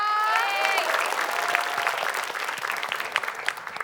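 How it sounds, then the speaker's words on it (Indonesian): Studio audience on an Indonesian game show claps for team A, a dense, loud wash of applause that starts with a brief musical sting and carries on steadily to the end. "Boleh beri tepuk tangan untuk tim A."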